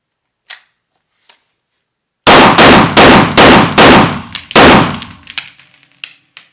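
Zoraki 917 blank pistol firing, a faint pop then a rapid string of about six loud, sharp close-range bangs with ringing decay, followed by a few softer clicks.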